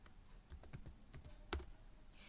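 Fingers type a short command on a computer keyboard: a quick, quiet run of separate key clicks, with one sharper, louder tap near the middle.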